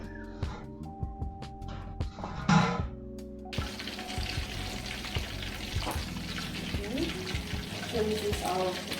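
Pork leg deep frying for Filipino crispy pata, with a dense steady sizzle and crackle of hot oil after a few clinks and splashes at the start.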